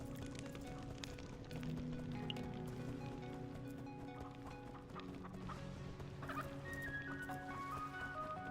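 A chicken clucks in the Minecraft: Story Mode video game, its short calls mixed with steady game music and ambience throughout.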